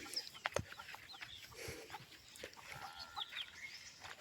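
Chickens cluck and murmur softly at a moderate distance in a house courtyard, with scattered short calls and a quiet rustling background.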